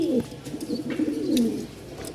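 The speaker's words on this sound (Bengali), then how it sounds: "আমাদের এরকম অনেক কবুতর আছে যেগুলো খুবই মাসাল্লাহ ফুল মুডে আছে" A crowd of pigeons kept in a loft coos continuously, overlapping low burbling calls close by and fairly even in level, with occasional brief higher notes.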